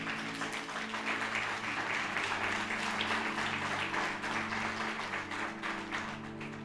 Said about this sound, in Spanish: Dale un aplauso en esta mañana.